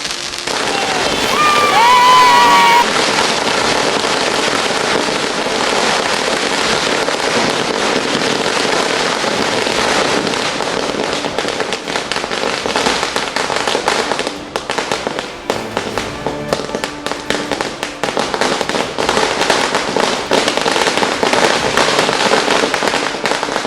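Firecrackers burst in rapid, dense volleys during Diwali celebrations, with sharp cracks and booms piling up continuously, loud and close, over a faint crowd murmur.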